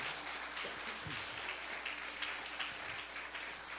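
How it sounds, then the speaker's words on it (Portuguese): A church audience claps continuously, broad and steady applause from many people with a few low thumps mixed in. "dá uma salva de palmas ao Senhor"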